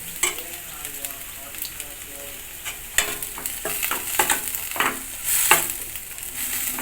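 Katla fish pieces for a Bengali kalia fry in a little oil. The sizzle crackles steadily and close up, with clinks and bursts of spatter from stirring.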